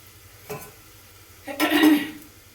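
Potato, fenugreek and carrot sabzi is stirred in a pan, with two short scraping, sizzling strokes, the second louder and longer, close by in a quiet kitchen.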